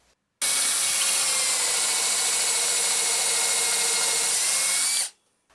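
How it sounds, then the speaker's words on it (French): A power drill bores a hole through a wooden upright in a scrap-wood insulation project, one continuous high whine running about five seconds alone, starting and stopping abruptly. "On perce un trou à l'emplacement marqué et c'est fait."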